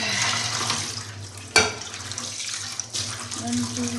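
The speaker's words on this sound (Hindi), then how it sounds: "बस पानी पहले डाल देती हूँ, फिर दूध ला के डालती हूँ।" A kitchen tap runs water into a pot for making coffee, a steady broadband hiss with a sharp clunk partway through and the flow resuming, close and moderately loud.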